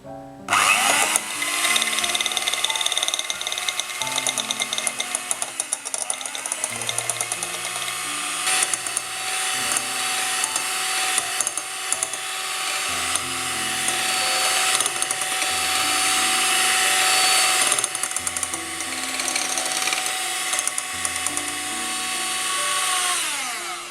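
An electric hand mixer whips dalgona coffee, starting at low speed, its motor whining steadily and close for the whole stretch, with the pitch shifting as the beaters move and change speed, no voices over it.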